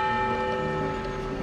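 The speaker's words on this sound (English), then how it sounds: "I know that it's the bell in the middle of Ballard." The bell in the middle of Ballard, Seattle, hums with a steady, rich metallic resonance from a sustained ring, with layered overtones lingering at moderate loudness and no voices.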